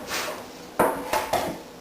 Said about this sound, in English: Take our lump, our fancy dough knife, cut it in 2